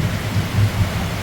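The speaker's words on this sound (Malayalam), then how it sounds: "ഇടിമിന്നു." Low rolling thunder mixed with steady pouring rain in a nighttime rainstorm, a dense continuous rumble at moderate level with no talking.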